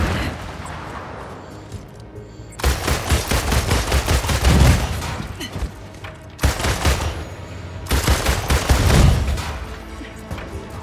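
Rapid bursts of automatic gunfire from gamma bullet rounds in Marvel's Avengers on PS4, two long loud fusillades with booming hits, separated by brief quieter gaps with distant game ambience.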